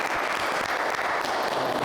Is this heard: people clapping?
yes